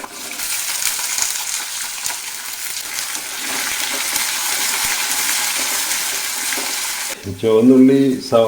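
Green chili, ginger, garlic, shallots and curry leaves sautéing in a pan, a continuous close sizzle with light stirring clinks for most of the clip, then a voice speaks near the end.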